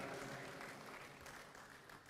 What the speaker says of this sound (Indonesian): tepuk tangan buat Pak Mangindaan,